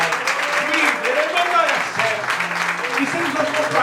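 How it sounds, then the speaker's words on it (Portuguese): A church congregation applauding during a service, a rolling burst of many hands clapping mixed with voices and music-like tones underneath, loud and close throughout. "Você pode aplaudir Jesus?"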